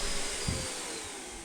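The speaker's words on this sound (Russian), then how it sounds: "Пылесос хорошо работает?" A repaired vacuum cleaner runs steadily, giving a continuous, close whooshing roar with a faint high whine and a couple of brief low thumps.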